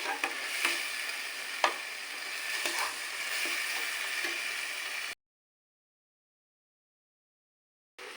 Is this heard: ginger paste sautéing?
yes